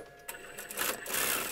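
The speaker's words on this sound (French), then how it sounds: "une petite couture de maintien ici" A sewing machine runs in short bursts while stitching a holding seam on a patchwork egg made from fabric, its whirring close and fairly quiet, with no talk over it.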